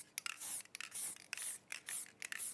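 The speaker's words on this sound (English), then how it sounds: "to spray over the whole board rather than just areas, because that means you don't miss anything out" Short hissing bursts of fixative sprayed across a charcoal drawing on a wooden board, several quick puffs in an uneven rhythm, close and fairly quiet with no voices.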